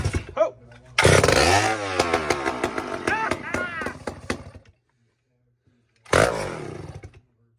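A vintage Poulan S72 chainsaw with a huge 6-foot bar and a fuel-starvation fault fires in two close, loud bursts. Each burst revs roughly, sputters and dies, with a silent gap between them.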